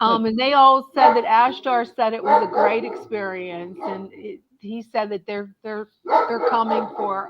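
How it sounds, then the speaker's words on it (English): A dog barks in the background of a radio call-in programme, with repeated yips and woofs mixed under continuous close speech. "Sorry about my dog, it figures."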